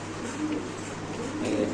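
Soft cooing of young Spanish pouter pigeons in short murmuring phrases over a steady low background hum, fairly close, with no talking.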